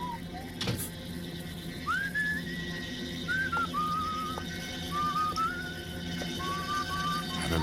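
Whistling from a played tape recording, a series of short, rising and level whistled notes, fairly faint over a constant tape hiss and low hum.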